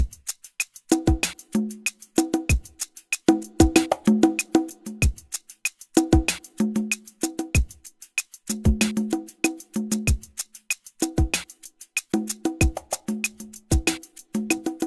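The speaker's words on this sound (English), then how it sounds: "the drums should sound something like this now" A crisp programmed beat loops with tight hi-hat ticks, punchy kicks and bursts of pitched conga hits in a repeating pattern.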